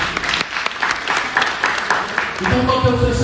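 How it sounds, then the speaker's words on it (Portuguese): A church congregation applauds during a worship service, a steady wash of clapping across the whole stretch that grows denser and more sustained toward the end. "Você pode aplaudir ao Senhor."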